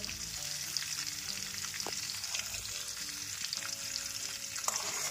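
Butter solids frying in a pan while homemade ghee cooks, a continuous bright crackling sizzle with occasional pops and a few soft stirring clinks, close and steady, no talking.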